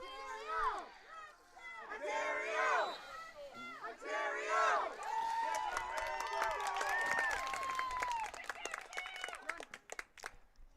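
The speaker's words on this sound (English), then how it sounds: "A very enthusiastic crowd here" Enthusiastic crowd at a field lacrosse game on an all-weather field in Dartmouth, cheers and shouts rising under a commentator's voice, with scattered clapping and whistles building toward the end.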